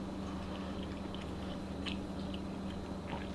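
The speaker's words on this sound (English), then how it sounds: "It's a bigger piece of steak. Takes a minute to chew it." Someone chewing a large piece of medium-cooked steak pan-seared in a cast-iron frying pan, with soft, steady mouth sounds close up over a constant low background hum and no talking.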